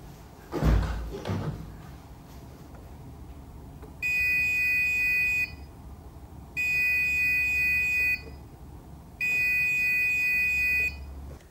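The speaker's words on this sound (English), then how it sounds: "let's see if it beeps" A thud near the start, then three electronic beeps from a car AC control head, each lasting over a second, evenly spaced with pauses between them, fairly loud against a quiet background.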